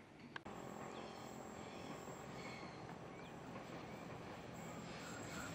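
A local train on the Garut Cipatuan line from Nagreg rolls past steadily, a dense rumble of wheels and cars after a sharp click at the start, with faint squeals, heard from a moderate distance with no talk.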